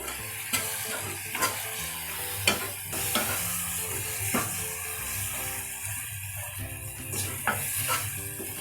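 Brain (magaz) masala with crushed chilli, salt and tomatoes sizzles steadily in a pan, with repeated scraping stir strokes and light metallic taps spaced through the frying.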